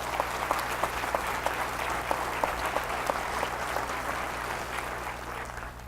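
An audience at a spring convocation gives a steady round of applause, moderately distant, with some sharper individual claps standing out above the even wash of hands.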